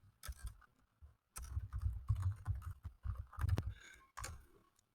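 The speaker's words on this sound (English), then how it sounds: "Typing it in." Faint keystrokes on a computer keyboard come in irregular bursts of clicks, with soft thumps from the desk under them, as an email address is typed in.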